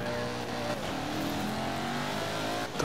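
Car engine in the Forza Horizon 4 racing game, revving hard with a steady, loud, gritty roar and rising pitch throughout, with no talk over it.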